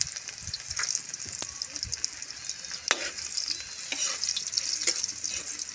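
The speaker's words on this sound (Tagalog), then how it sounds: "Okay, magigisa na po tayo." Garlic and ginger sautéing in hot oil, with a bright continuous sizzle and scraping stirs from a utensil against the pan, close and moderately loud.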